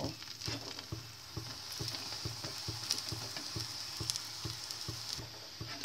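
Besan roti frying in oil in a pan, a steady close sizzle with rhythmic soft pops and crackles running throughout.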